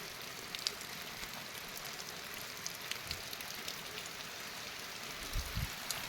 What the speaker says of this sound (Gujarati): ફાઇનલી વરસાદ આવી ગયો તમને બતાવું તો વરસાદ કેવો પડે ને